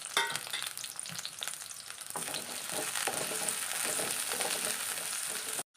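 Shallots and sliced onion fry in hot oil in a pan, giving a dense, steady sizzle with crackling spatters that stays loud and close throughout, with no voices.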